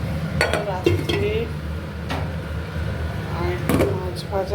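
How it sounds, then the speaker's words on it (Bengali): Potato and cauliflower frying in a pan at home: close, steady clinks and scrapes of a utensil stirring against the pan over a low sizzle, with a few sharper metallic knocks. "আলু কপি ভাজা"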